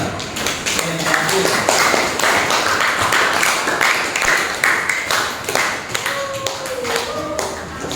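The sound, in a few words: class applauding group 2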